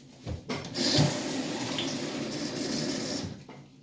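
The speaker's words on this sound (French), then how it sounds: "Ensuite, je vais remettre de l'eau." Water pours steadily into a container for about three seconds, a close, continuous splashing rush that starts abruptly and tapers off near the end, with no voices.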